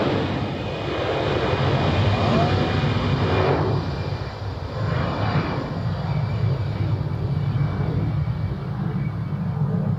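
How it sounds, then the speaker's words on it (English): A Eurowings airliner takes off at Zurich Airport, its engines giving a steady, loud broadband roar that holds for the whole stretch, with faint swells and no voices. "So, next takeoff, the Eurowings to, what was that, Berlin?"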